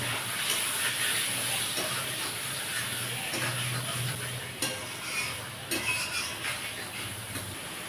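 Chicken pieces go into spice masala frying in a pan, giving a steady close sizzle and hiss with stirring and scraping sounds, no talking.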